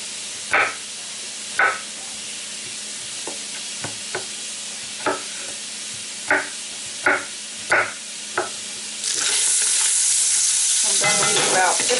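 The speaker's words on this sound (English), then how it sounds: "While your sausage is cooking" Sausage cooking in a pan while potatoes are prepared for Cajun smothered potatoes; sharp knocks and scrapes sound a few times near the mic, then a loud, steady sizzle and hiss takes over for the last few seconds.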